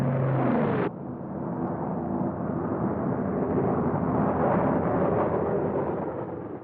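Bombs dropped by WWII P-47 Thunderbolts burst on a target in Italy, a loud deep rumbling blast that rolls on for several seconds after a brief higher tone cuts off.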